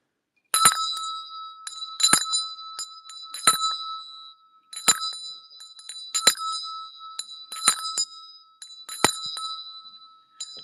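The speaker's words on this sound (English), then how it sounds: "let me ring the bell 7 times for her" A bell is struck seven times at an evenly spaced, unhurried rhythm at a gathering, each ring clear and metallic with a short ringing decay before the next strike, loud and close with no talk.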